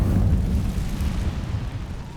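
Incendio, a fire spell cast in the video game Hogwarts Legacy, bursts out as a deep rumbling whoosh that starts strong and slowly fades over about two seconds.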